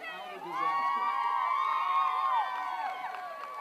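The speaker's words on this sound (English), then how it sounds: "I think they're cheering." Spectators at a boat race cheer and shout together, a sustained swell of many raised voices holding long, wavering calls that rise and then ease off slightly.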